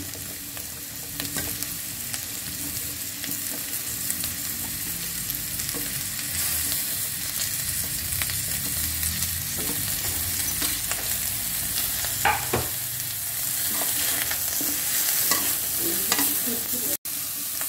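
Cauliflower stir-fried with mixed vegetables for a sesame vegetable stir fry, giving a steady close sizzle of hot oil with repeated scraping and tossing strokes of a spatula throughout, no voices.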